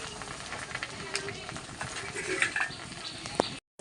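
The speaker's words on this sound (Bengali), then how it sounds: "ভালো করে নেড়ে চেড়ে দেবো" Jujube pickle being stirred in a pan with turmeric and chili powder: soft frying hiss under intermittent scraping and clinks of a spoon against metal, moderately close, cutting out abruptly at the end.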